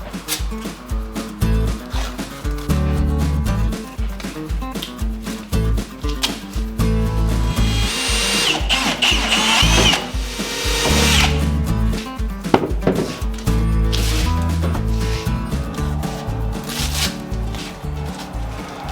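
Holes being cut for turn signals on a Honda Pioneer, a loud, close power drill whirring in repeated bursts with grinding bites into the material over nearly twenty seconds.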